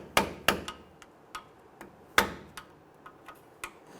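Sharp metallic taps and clicks from a flathead screwdriver or chisel tip working the edges of a rusted rear wheel bearing seal on a 2006-2010 Hummer H3, irregular strikes of varying strength, close up, with no talking.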